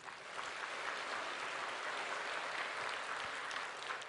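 Church congregation at a Sunday service applauding in thanks, a steady wash of many hands clapping together, fairly distant and even in level for the whole stretch.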